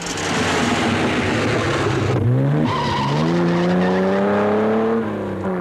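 A Porsche rally car races up a steep Alpine mountain climb with many hairpins in the 1958 Coupe des Alpes, its engine loud and close as it revs and shifts through rising gears, with a tire-scrub texture under the roar.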